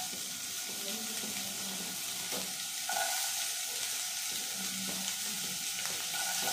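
Carrots fry in hot oil in a pan for pav bhaji, giving a steady, close sizzle and crackle throughout, with faint stirring and scraping sounds over it.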